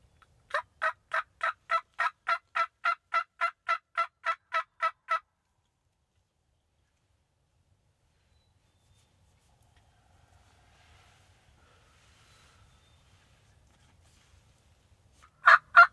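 A wild Michigan turkey during spring archery hunting gives a rapid rattling burst of about a dozen gobble-like pulses, then long near-silence before two more sharp calls at the end.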